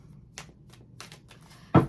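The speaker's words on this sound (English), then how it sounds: "I'm gonna gotta shuffle these cards a couple of times." Tarot cards shuffled by hand give a few brief riffling bursts, ending in a louder snap as the deck comes together, close and alone.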